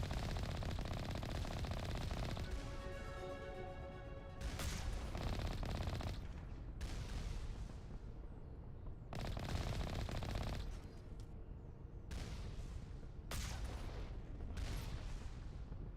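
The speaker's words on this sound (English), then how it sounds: "Who is still shooting at me?" Gunfire in the video game Mass Effect: bursts of rapid automatic fire and sharp shots, loud and close, come in separate volleys with short pauses between them.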